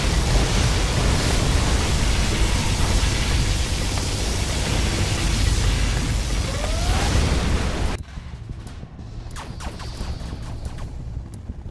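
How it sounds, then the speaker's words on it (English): A particle cannon strike in Command & Conquer Generals Zero Hour roars as a loud, sustained, noisy blast for about eight seconds, then cuts off abruptly to quieter in-game battle sounds. "Particle cannon activated."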